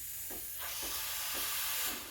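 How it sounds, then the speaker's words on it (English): Steam hisses from the steam wand of a Breville Barista Express BES860 espresso machine, a close, steady high hiss broken by a few soft sputtering pulses, and nothing else is heard. "about 15 seconds until steam starts coming out. Give it about 5 more seconds and it'll get actually stronger"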